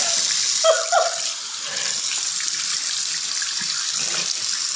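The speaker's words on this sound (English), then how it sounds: "I'm washing my face so many times." Tap water runs steadily into a bathroom sink during face washing, a close, loud, even rushing hiss with a few brief splashes near the start.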